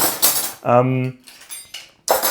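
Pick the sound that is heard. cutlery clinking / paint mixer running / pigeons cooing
cutlery clinking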